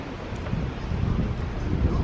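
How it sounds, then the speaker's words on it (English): Wind blowing at a campsite beside a waterfall in Switzerland, a steady loud low rumble and buffeting across the microphone throughout, with no voices. "Oh my gosh, wind."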